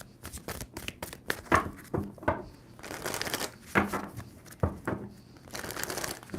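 Tarot cards being shuffled by hand, a run of crisp riffling bursts and soft flutters in close succession, near and fairly quiet, with no talking.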